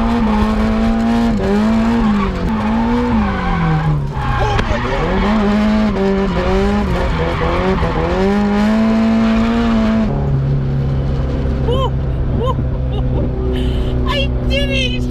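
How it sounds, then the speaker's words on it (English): A race car drives hard, its engine whining in rising and falling sweeps while the tires skid and squeal, loud and continuous, before the pitch drops into a steadier lower drone. "We've gone in race cars."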